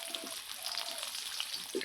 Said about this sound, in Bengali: কুচি দিয়ে পেঁয়াজটা ভেজে নিব